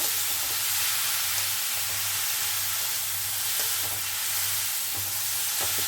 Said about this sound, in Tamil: இப்போ இதை ரெண்டுத்தையும் நல்லா கலந்து நல்லா வதக்கணும் நெய்யில்